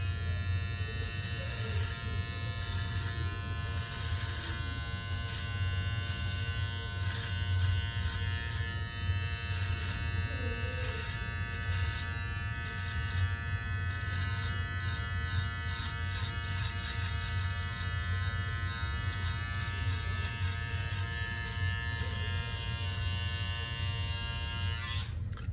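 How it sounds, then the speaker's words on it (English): An electric hair trimmer runs steadily for the whole stretch, a close, even motorized buzz with a strong low hum and no breaks, heard alone without talk, as a barber trims facial hair before a shave. "I'm gonna come through with a trimmer and do it."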